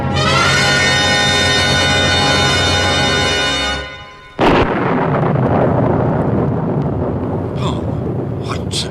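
A deep rumble like thunder swells in, drops away briefly, then returns as a broad, loud roaring crash that sustains under a sustained tonal drone at first, with faint distant sounds near the end.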